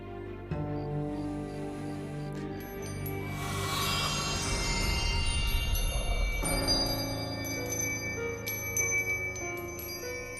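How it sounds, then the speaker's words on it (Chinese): An eerie bell rings out with shimmering, sustained metallic tones, swelling into a dense burst of ringing midway before settling into scattered tinkling chimes over a low drone. "是妖铃声。"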